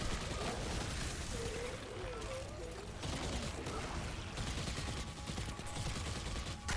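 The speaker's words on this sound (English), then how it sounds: "Just hit them with the Osteostriga" Osteo Striga submachine gun firing at goblins in Destiny 2, rapid continuous gunfire layered with dense in-game combat noise and explosions, loud and unbroken.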